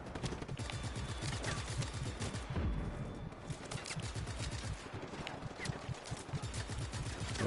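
Dense rapid gunfire from the video game Just Cause 3, a near-continuous rattle of automatic weapons and overlapping shots that stays loud across the whole stretch, with no talking.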